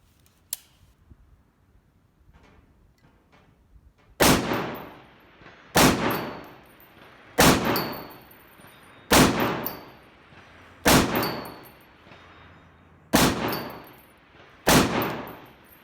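Seven rifle shots from a SCAR-17S strike a steel plate at 300 yards, each a sharp loud crack with a decaying tail, fired at a steady moderate pace of about one every one and a half seconds, with no talking.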